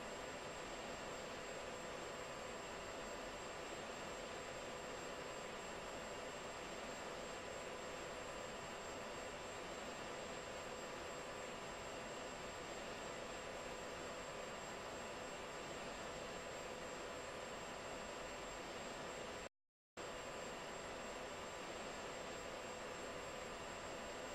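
Aircraft engine noise in the Arma video game as a plane comes in to land: a steady, broadband jet-like roar with a thin high tone, continuous and even, briefly cut out near the end.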